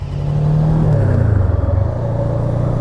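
A Voge 500AC motorcycle riding along, giving a steady close engine hum whose pitch shifts down partway through as it swells and then settles.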